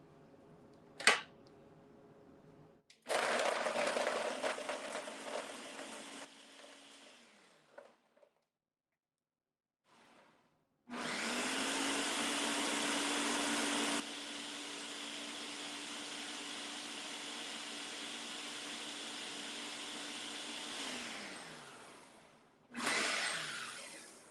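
A blender runs loud and steady as it churns frozen strawberries, starting and stopping in several long bursts, with the motor pitch shifting as the frozen fruit breaks down.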